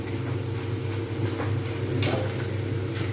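Potatoes fry in oil until crispy, giving a steady low sizzle with a soft clatter of stirring near the middle, fairly quiet throughout.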